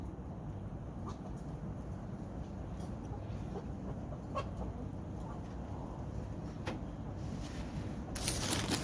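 Chickens cluck intermittently over a constant low rumble of wind or background noise, the birds fairly faint and scattered throughout.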